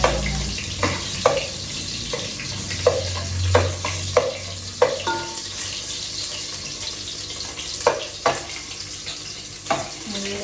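Garlic frying in a pan for tomato sambar, a steady close sizzle broken by repeated sharp scraping and stirring clicks, heard alone without any speech.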